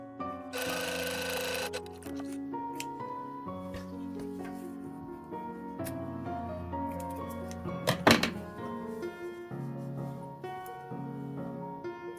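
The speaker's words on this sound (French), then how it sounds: "on va faire une petite surpiqûre de chaque côté" A sewing machine topstitches along each side of a fabric pouch, its stitching mixed with clunks and shifting sounds over a steady tonal background; one sharp knock stands out near the end.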